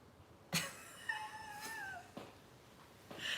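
A cat gives a single soft, drawn-out meow with a falling pitch in a quiet indoor room, faint and close, with a few small knocks around it.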